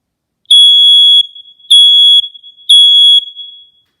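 A Frontpoint GE Interlogix smoke sensor sounds during a test: three loud, piercing, high-pitched beeps, each about half a second long and evenly spaced, very close with no talking.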